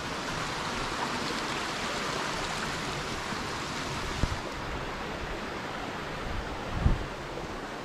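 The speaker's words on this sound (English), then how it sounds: "As we cross over here, one of the smaller waterfalls." Steady rushing of a small waterfall at Purling Brook Falls, Springbrook National Park, a continuous broadband roar close by, with a couple of faint knocks partway through.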